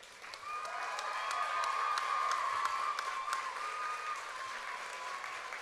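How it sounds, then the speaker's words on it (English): A pageant audience at the Choctaw Nation Princess Pageant applauds steadily, a moderate wash of many hands clapping that holds for several seconds with no speech over it. "And let's give another round of applause for Hayley."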